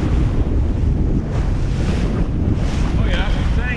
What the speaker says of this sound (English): Winds are all over the place and the waves are like getting crazy.